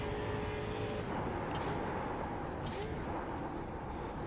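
A Skip Barber Mustang race car in the iRacing sim runs at Sebring Club, its engine droning steadily and loudly throughout, with brief higher-pitched surges as power is applied out of a hairpin.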